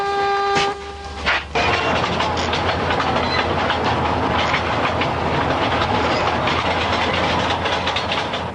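A train rushes along rails over rotting sleepers in the Russian countryside, with a continuous loud rumble and clatter throughout and a brief horn blast near the start.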